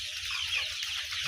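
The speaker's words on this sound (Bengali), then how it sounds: "মিশরীয় ফাউমি মুরগি, যাকে এক পর্যায়ে ডিমের রাজা বলা হয়ে থাকে।" Egyptian Fayoumi chickens on an egg farm clucking and chattering together, a steady busy flock sound that runs through the whole moment with no talking.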